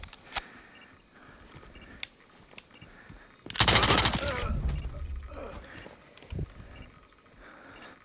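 Gunfire rattles in the VR shooter Firewall Ultra as a loud, dense automatic burst lasting about a second. Scattered single clicks and softer shots come before it and a few quieter reports follow against a low background of game ambience.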